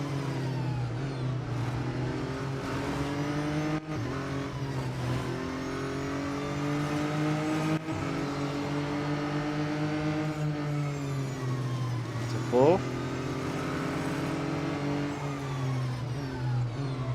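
Race cars in Real Racing 3 drone steadily for the whole stretch, engines rising and falling as they rev and shift, with a brief squeal partway through and a constant close, loud roar.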